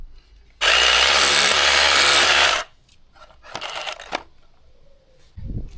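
A drill screams loudly for about two seconds as it bores through a plastic tank, followed by a shorter, quieter burst and some scraping handling noise.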